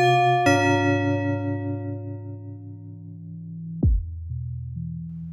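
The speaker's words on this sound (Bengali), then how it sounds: "ঘন্টা বাজালাম।" A single bell struck once, ringing out with a bright metallic tone and a long decaying shimmer, followed by a low soft thud and a quiet hum.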